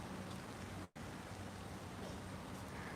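Steady rain falls outdoors near Chelyabinsk in the Urals, a dense even hiss of drops on surfaces with one very brief dropout near the start, no voices.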